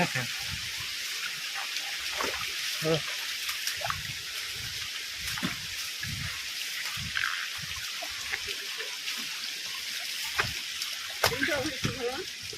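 Water of a waterfall stream at Tanwat in Nuapada district flows as a steady broadband rush and trickle, with voices talking over it throughout.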